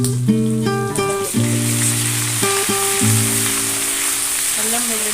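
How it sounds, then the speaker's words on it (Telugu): Ginger garlic paste fries with golden-brown onions in a pan for a dry fish and brinjal curry, a loud steady sizzle close by with steady tones over it throughout. "పెట్టేసి పచ్చి వాసన వెళ్ళేంత వరకు ఇలాగే ఫ్రై చేసుకోవాలి."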